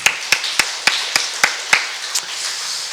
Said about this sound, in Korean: 할렐루야. 우리 박수.